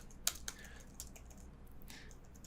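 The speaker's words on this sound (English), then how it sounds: "I need to stop hitting the wrong keys on the keyboard" Computer keyboard keys tapped a few times in a quiet room, scattered soft clicks, two sharper strikes early then lighter taps.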